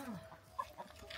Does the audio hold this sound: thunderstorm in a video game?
no